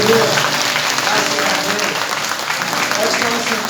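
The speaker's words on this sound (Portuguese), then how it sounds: "Você pode aplaudir o Senhor?" A church congregation applauds during a worship service, a steady, dense wash of clapping from many hands that holds at an even loudness for several seconds, with crowd murmur blended in.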